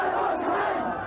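Street crowd in Manila cheering and chanting slogans for Aquino as tanks return to base, a loud massed roar of voices that holds steady through a short burst.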